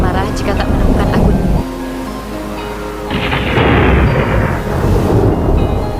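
Thunder from a big storm at sea, deep rumbling booms and rolling surf-like roar that swell and shift in intensity, with a voice talking over parts of it.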